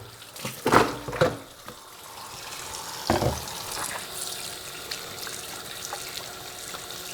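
Water runs from a kitchen faucet into a sink while beef tripe is rinsed in a colander, with a steady close splashing stream and a few louder handling bursts.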